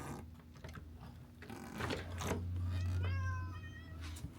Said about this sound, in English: I'm just making sure the kitties go where they're supposed to go